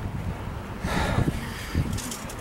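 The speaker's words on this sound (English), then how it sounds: "Boy, it's awful breezy all of a sudden." Outdoor gusts of wind buffet the microphone in low rumbling surges, swelling around the middle amid faint rustling, with no voices.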